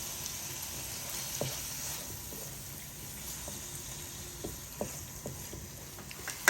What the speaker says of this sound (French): Là je mélange le tout.